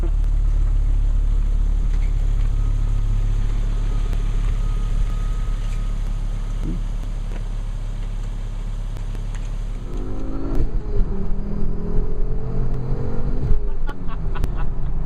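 A Volvo fitted with an IPD 4T4 turbo drives along, its steady engine drone and road rumble rising later as it picks up speed, close and fairly loud, with no talk.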